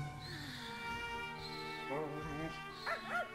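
A dog in the video game Pac-Man World 2 gives a few short yipping barks and whimpers over an electronic game-music background, with the calls clustered toward the end.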